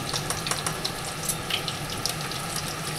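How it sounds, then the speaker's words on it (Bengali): Paneer cubes frying in hot oil give a dense, continuous close sizzle with small crackling pops throughout, evenly loud and uninterrupted by any talking. "দেখুন আমার পনিরটা কিন্তু প্রায় ভাজা হয়ে গেছে"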